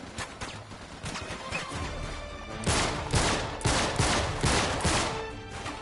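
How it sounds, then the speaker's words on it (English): Gunfire in the Uncharted video game, bursts of rapid shots and crashing impacts that grow denser and louder midway, loud and continuous with no talk. "Yeah, shoot him down."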